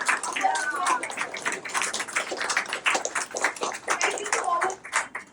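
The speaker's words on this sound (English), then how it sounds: "And a round of applause for Steven." Audience applause at a Grade 7 school book launch, a dense patter of many hands clapping steadily throughout at moderate volume, with faint voices mixed in.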